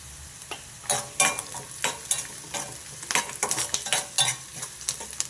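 Onions fry in a pan as turmeric is stirred through, a spoon scraping and clinking in sharp, irregular bursts over a low sizzle.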